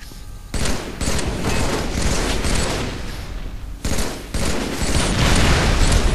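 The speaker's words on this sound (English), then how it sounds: "I'm just putting shots on people." Sustained gunfire from a multiplayer shooter match on the Heretic map in a 2v2 game, dense bursts of shots loud and continuous with brief pauses near the start and middle.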